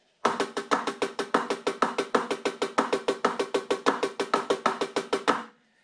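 Drumsticks play a steady single-stroke exercise on a practice pad, a fast even stream of crisp taps at constant volume, close and dry, with no voices.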